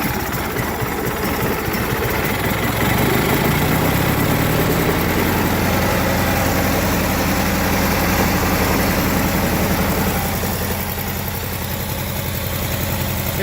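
A Cub Cadet 1811 lawn tractor engine, just revived with a new carburetor, runs steadily after its first start, a loud continuous mid-low rumble with a slight pitch rise early on and no voices.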